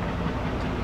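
Freight train wagons being shunted and coupled while a train is formed in a rail yard, a steady low rumble of rolling stock with a faint rattle, continuous and fairly close, no voices.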